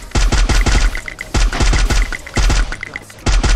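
Video game gunfire in a competitive shooter match, rapid loud bursts of automatic shots in quick rhythmic volleys, close and continuous with short pauses.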